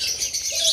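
Parrots kept at home chirping, with a few quick, thin high tweets and calls over a quiet background, moderately near.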